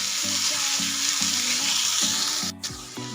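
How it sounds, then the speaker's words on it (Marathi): Ginger, garlic and green chili paste frying in hot oil with onion, a steady loud sizzle with repeated stirring scrapes in a rhythmic pattern, briefly dipping near the end. "मी अद्रक लसूण हिरवी मिरचीची पेस्ट बनवून घेतली होती, ही पण आपल्याला त्यामध्ये परतून घ्यायची"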